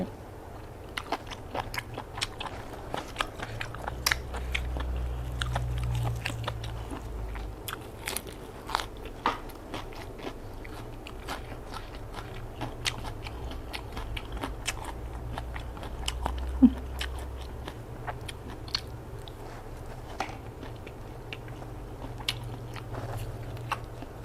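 Close, crisp crunching and biting repeats irregularly as crunchy grilled mala-spiced food is chewed, with a low hum underneath.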